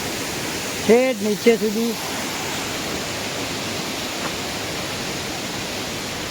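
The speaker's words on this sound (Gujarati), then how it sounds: "જો ઝરણું પડે છે અહીંયા" A waterfall pours down a mountainside, a steady, full rushing roar that runs the whole time, with a person briefly talking over it near the start.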